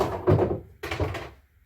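Two dull, knocking impacts roughly half a second apart, close and fairly loud, as a pool cue strikes the cue ball and it hits object balls in an 8-ball game; no talking.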